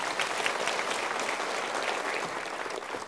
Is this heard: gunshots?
no